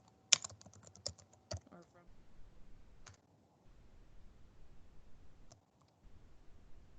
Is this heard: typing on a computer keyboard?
yes